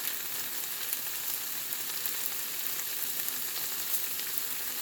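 Mushrooms, veal and garlic frying in a pan make a steady, close sizzle with soft crackling throughout, heard alone with no voices.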